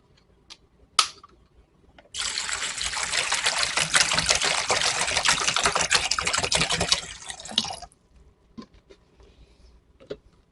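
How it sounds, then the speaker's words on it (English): Water poured from a container into a cat water fountain during setup, a steady close trickle and splash lasting about six seconds, framed by a few faint handling clicks before and after. "Now, what you want to do is put some water in there."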